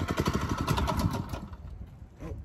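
A small engine on a PL 850 line striper runs with a rapid, rough putter close by, then cuts away to near quiet with a faint later rumble.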